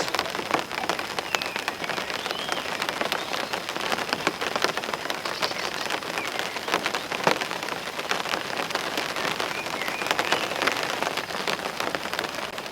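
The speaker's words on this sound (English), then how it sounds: "the rain seems to be getting a bit more persistent now." Steady rain pattering on a surface, constant and close, with scattered heavier drops and no voices.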